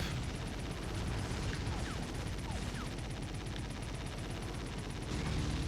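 Continuous dense gunfire and blasts from a rocket-heavy firefight in the 007 Nightfire video game, a steady wall of loud crackling explosions with no talk over it.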